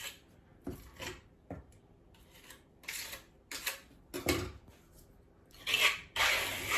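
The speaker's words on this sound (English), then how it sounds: "now I'm going to trowel one more layer on the top just so I get really good coverage" A trowel scrapes and smooths a faux quartz coating onto a surface in short irregular rasping strokes, close and fairly quiet, with no talk.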